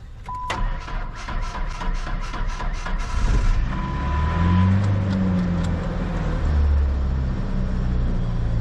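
A 1996 Ford Ranger pickup cranks with a rapid starter whir and chatter for a few seconds, then catches and settles into a loud, steady idle rumble close by.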